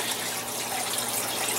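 Water gushes steadily into a tank in a frozen aquaponic greenhouse while the pump keeps running, a constant close, full splashing rush with no voices.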